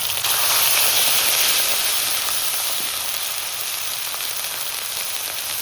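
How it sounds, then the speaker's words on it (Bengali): Cumin seeds, ginger-garlic paste and green chili paste hit hot oil in a village kitchen, producing a loud, continuous hissing sizzle that eases slightly over several seconds, with no talking. "দিয়ে দিচ্ছি জিরে ফোড়ন, আদা আর রসুন বাটা, কাঁচা লঙ্কা বাটা"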